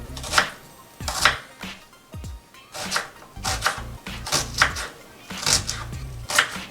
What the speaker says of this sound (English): The onion is ready to be chopped. I'll start chopping now.